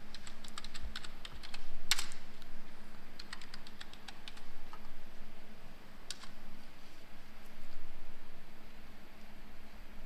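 Someone types a username and password on a computer keyboard, a quiet run of irregular clicking keystrokes with a few sharper taps, no voices.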